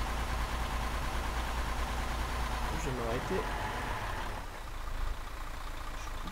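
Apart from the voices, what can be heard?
vehicle engine idling in Arma 3 AltisLife video game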